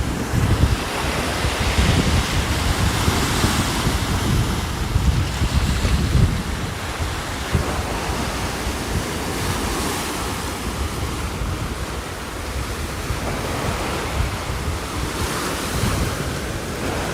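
Ocean waves wash in and out among the rocks at Sunset Cliffs in San Diego, a continuous loud roar of surf with wind buffeting the microphone throughout.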